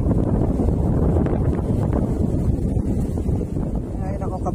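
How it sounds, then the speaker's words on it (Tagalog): Steady, heavy wind buffeting the microphone on a fishing outing, a constant low roar throughout with a faint voice underneath. "ayaw nang huminto ng hangin"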